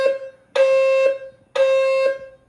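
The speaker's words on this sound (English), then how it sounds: "Fire alarm was going off, and it's like there's been an emergency." A fire alarm sounds two loud, identical electronic beeps, each about half a second long, separated by a short silence and heard up close.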